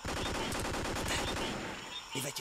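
Sustained rapid gunfire from the Vietnam War video game Vietcong, dense overlapping automatic bursts with a steady rattling rhythm that continues loud throughout before easing slightly near the end.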